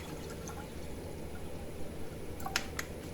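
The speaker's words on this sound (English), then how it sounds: "I'm going to start my pot with some water" Water pours into a pot in a soft, steady stream with a few brighter splashy drips near the end, close by and with no talking.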